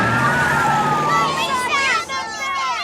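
A police car siren in the animated series The Simpsons wails with rising and falling tones over busy cartoon sound and music, loud and close, with several sweeping sounds in the upper range.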